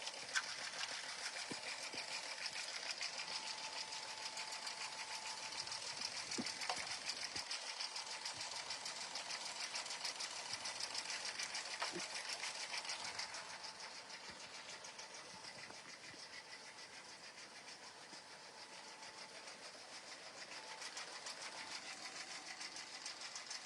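A sewing machine runs steadily while stitching a notebook cover, a continuous mechanical whir that dips slightly in level partway through, with no talking.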